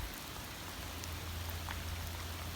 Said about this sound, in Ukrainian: слухав як йде дощ.